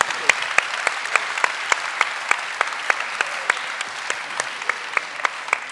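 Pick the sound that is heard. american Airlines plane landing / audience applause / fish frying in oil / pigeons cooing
audience applause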